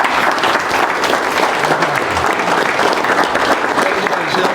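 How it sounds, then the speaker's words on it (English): Loud, dense clapping from a football team gathered in a meeting room, a close, continuous burst of many hands with faint crowd murmur mixed in. "Clap it up, Chef."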